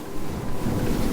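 An Axopar 38XC motor boat running at about 31 knots into a decent head sea, with steady broadband rush of hull, water and wind noise, low and continuous with no pauses.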